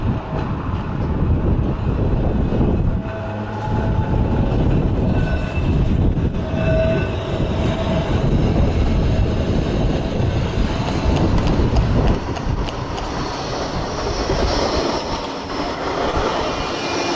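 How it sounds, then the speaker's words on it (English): A Blackpool heritage tram runs from North Pier toward Fleetwood, its steady rumble of wheels on rails and motor drone continuous and fairly loud throughout, with no voices. "we'll be riding on Blackpool's heritage service to get from North Pier to Fleetwood and back"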